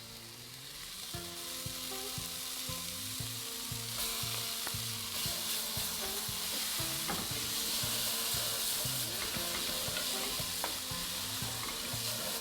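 Grated ginger and onions sizzle steadily in a hot pan, a continuous close frying crackle with the clink and scrape of a utensil stirring in a regular rhythm throughout, no voices.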